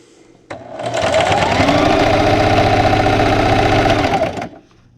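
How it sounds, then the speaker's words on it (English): A sewing machine stitches fabric in one steady run of fast, even needle clatter that starts suddenly, holds for a few seconds close and loud, then stops. "I'm going to stop on my stitches with my needle down, raise my presser foot and spin, and then just keep sewing"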